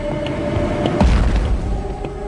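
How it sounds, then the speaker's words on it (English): A single deep boom around the midpoint, a sonic boom from an aircraft over Southern California, heard as a low rumbling thud over faint background noise and quickly fading. "a series of unexplained sonic booms in the Southern California area, literally shaking windows"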